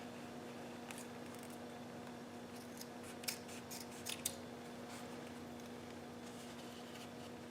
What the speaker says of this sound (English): So I'm going to cut this one a little shorter.